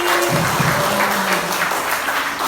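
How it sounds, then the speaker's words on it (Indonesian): Audience applause at a school event, dense steady clapping filling the whole stretch at an even level with no voices over it. "Tepuk tangan untuk Mas Denis."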